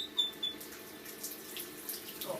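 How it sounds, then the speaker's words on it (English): Hot water runs from a tap into a sink, a steady broadband rush with no talk, faint and continuous over a couple of seconds, with a few small clinks near the start. "The first thing you need to do is just fill up the sink with hot water."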